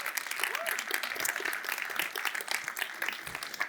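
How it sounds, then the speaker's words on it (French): Guests at a customer-satisfaction award ceremony applaud themselves, a moderately distant wash of many hands with crisp individual claps standing out, continuing evenly throughout. "je vous propose d'ores et déjà de vous auto-applaudir"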